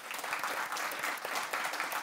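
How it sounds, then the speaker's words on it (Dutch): Audience applause at a talk on water management, dense steady clapping from a crowd heard at moderate distance for a couple of seconds. "Mag ik een groot applaus voor Maarten?"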